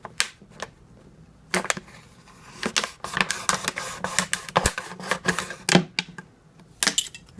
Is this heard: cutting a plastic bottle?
yes